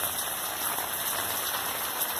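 Rain falling on garden plants, a steady dense hiss of drops close by with no breaks and no talk.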